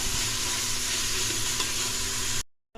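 Chopped onion with salt sautéing in a pan, a dense, steady close sizzle with faint stirring, continuous and loud before cutting off abruptly near the end.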